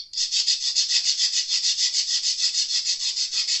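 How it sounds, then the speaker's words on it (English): Coarse, aggressive sandpaper rubbing back and forth on a new Jazz Bass nut, a steady rhythmic scratching of even strokes, close and loud throughout with no talk. "Using a fairly aggressive sandpaper."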